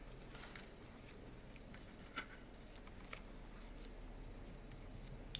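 Scissors cut a dollar-store heart craft piece into strips, giving a few faint, sharp snips spaced apart in an otherwise quiet room.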